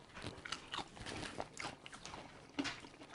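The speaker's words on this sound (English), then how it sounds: "Let's try the French fries together here." Crunchy bites and chewing of griddle-cooked French fries, close and moderately loud, several crisp crunches in uneven rhythm.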